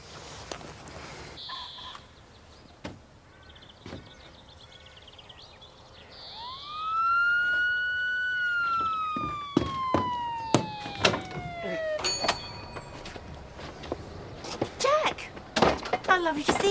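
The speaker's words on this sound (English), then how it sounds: "Police car." A police car siren rises and falls in one long wailing sweep in a rural village, surrounded by scattered knocks and thuds, with people talking around it.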